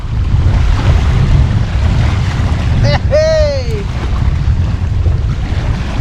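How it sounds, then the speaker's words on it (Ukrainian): Strong wind buffets the microphone in a constant low roar on the Dnipro river while fishing, with a brief shout partway through and open-water ambience around it. "Тут вітер такий."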